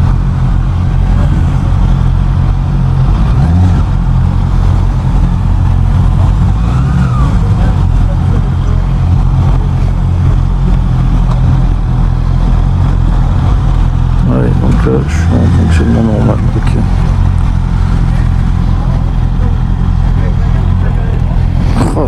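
A 2024 Honda CB650R E-clutch A2 motorcycle engine hums steadily at close range while riding, its loud, continuous drone rising and falling slightly with throttle changes, with a rider speaking at times over it.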